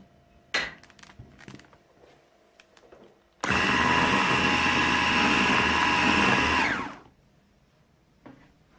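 Electric hand mixer whisking chocolate brownie-style cake batter with cocoa and sifted flour, a steady loud whirring for about three and a half seconds, starting abruptly and winding down, with a few faint knocks around it.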